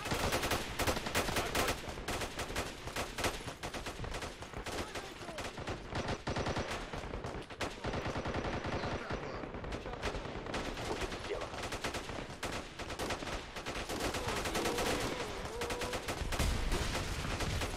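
Dense gunfire fills a Call to Arms battle in an Afghan village, with rapid machine-gun bursts and scattered shots running continuously and fairly loud throughout.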